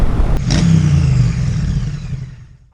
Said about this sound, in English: Here we have the air and oil cooled Boxer 1170cc engine.